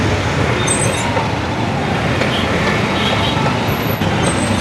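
Loud, steady roar of congested road traffic in Kalyan near a flyover, a dense wash of engine rumble with brief higher whines and squeals breaking through.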